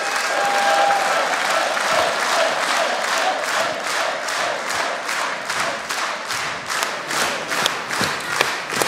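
Studio audience at a German Schlager TV show applauding a performance, dense steady clapping throughout with sharper individual claps standing out toward the end, no voices over it.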